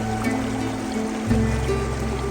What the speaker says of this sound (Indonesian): Suara gemericik air terjun yang terdengar dari kejauhan menambah kesan magis tempat ini